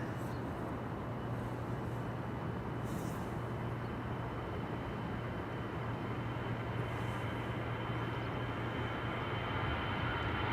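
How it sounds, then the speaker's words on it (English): An EasyJet airplane departing Amsterdam Schiphol Airport, a steady distant roar of jet engines with a constant low hum, faint and unbroken throughout. "EasyJet departure here in the foreground"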